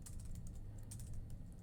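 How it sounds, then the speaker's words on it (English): Quiet, steady typing on a computer keyboard, with a fast run of soft key clicks under a low hum, heard alone without talk. "Okay, my keyboard's in a weird place."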